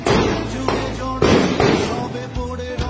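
Police gunfire crackles during a protest march, a few sharp bangs a moment apart, loud and close over a busy, crowded background.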